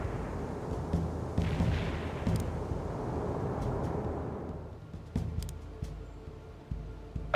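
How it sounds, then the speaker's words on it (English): Mortar barrage in the World in Conflict strategy game: a steady rumbling wash of distant booms with several sharper thumps toward the end, loud and continuous, no voices. "Mortar barrage delivered."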